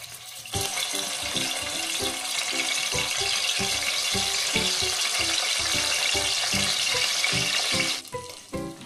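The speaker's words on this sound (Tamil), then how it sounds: "எண்ணெய் சூடாகணுன்னே கருவாடை பொறிச்சு எடுத்துக்கோங்க." Dried fish fries in hot oil inside a pressure cooker, a loud, steady crackling sizzle that starts abruptly and runs for several seconds, with rhythmic clinks of stirring underneath, then fades out, and no one speaking.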